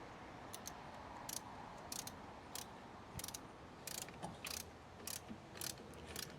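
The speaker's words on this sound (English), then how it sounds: "Try to screw it on with your finger if you're strong enough, just to get it nice and secure, and then use the wrench at the end." A wrench tightens the terminal nut on a car battery while it is being changed, giving faint, irregular metallic ratcheting clicks in short bursts over a steady background hiss.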